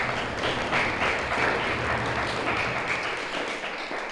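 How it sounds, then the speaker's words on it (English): An audience at a student education showcase claps steadily throughout, a dense, even round of applause with no talking over it. "So let's give Sarah and Gorgeous a round of applause"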